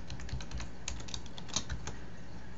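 A password typed on a computer keyboard, with a quick, irregular run of soft key clicks close by and one sharper keystroke partway through, over quiet room tone.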